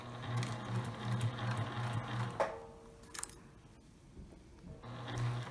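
A sewing machine runs a back stitch on a fabric face mask, a rapid whirring rattle that stops, leaves a pause with faint clicks of handling, then starts again briefly.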